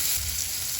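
Tomato and ginger sautéing in a pan give a steady, close, dense sizzle that stays constant throughout the short moment, with no voices over it.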